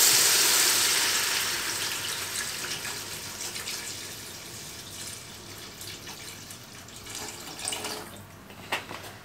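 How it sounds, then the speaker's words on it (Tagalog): Water rushes into a cooking pot of tomatoes for seafood sinigang, strongest at the start and then settling into a softer, steady pour with a few small splashes near the end. "Tapos lagyan na natin ng tubig."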